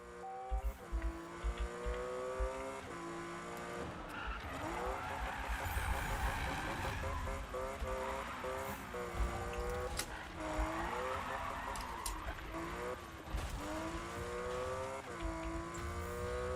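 A car drifts in Need for Speed 2015, its engine revving and wailing through shifting pitches with tire squeal, loud and continuous for the whole stretch.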